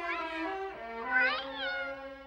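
A cartoon cat meows in two drawn-out, plaintive cries, close and clear against a quiet background.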